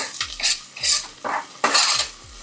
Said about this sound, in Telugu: ఇది మంచిగా చేతితో కలుపొచ్చు కదా